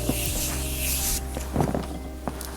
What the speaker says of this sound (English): then I go in with the Urban Decay All-Nighter Setting Spray